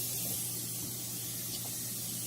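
Cooking spray hisses steadily from a can into a 10-inch cake pan, one continuous close spray lasting a couple of seconds with no talking.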